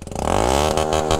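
A Honda Bros 160 motorcycle accelerates hard after a river crossing, its engine revving up with a rising, rough mid-pitched roar close to the microphone, steady and loud throughout.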